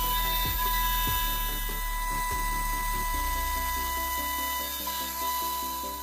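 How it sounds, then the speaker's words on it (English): CNC milling machine cutting aluminium, a steady high-pitched whine with a low hum beneath it, a few sharp tool engagements early on, then a continuous buzzing cut, moderately quiet, with no voices. "Next up is a CNC milling machine for working with aluminium."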